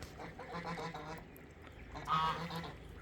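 Geese by a backyard pond give a few close, nasal honks in short bursts, one louder call standing out near the end, with ducks nearby.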